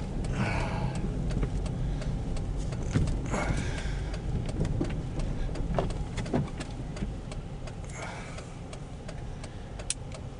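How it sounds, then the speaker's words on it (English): A Little Egg Harbor dump truck drives down a snowy county road during a 2010 snowstorm, its engine rumbling steadily nearby with scraping and clanking noises and no talk. "That was like a Little Egg Harbor dump truck there."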